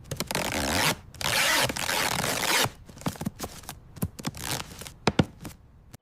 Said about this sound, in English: I'm taping up the parcel.